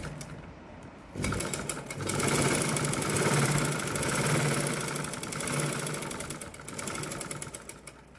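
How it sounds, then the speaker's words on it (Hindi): Sewing machine stitching a second line along a palazzo trouser seam, a fast continuous whirring rattle that starts after a quieter moment and runs steadily close up, rising and easing slightly with the stitching speed. "अब इसको घुमाकर एक बार फिर से सिलाई करेंगे। डबल सिलाई से धागा मजबूत हो जाएगा।"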